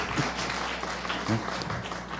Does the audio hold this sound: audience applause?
yes